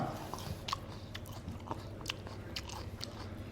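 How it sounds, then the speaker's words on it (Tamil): Someone eating a restaurant meal with onions, close wet chewing and crunchy bites repeating steadily without talk. "அதனால தான் பேசவே இல்லை சாப்பிட்டு மட்டும் இருக்கேன்"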